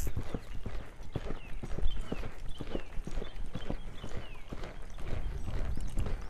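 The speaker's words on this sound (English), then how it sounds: "Now I'm going to ask her to canter, sit back to the outside." Hoofbeats of a mustang mare cantering on a circle, a steady rolling three-beat clip-clop repeating close by with no talking over it.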